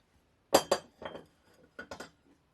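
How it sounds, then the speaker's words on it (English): An opalescent glass bowl with rough edges is handled, giving a few crisp, close clinks in two quick clusters with quiet between them. "There's a glass bowl here, rough edges."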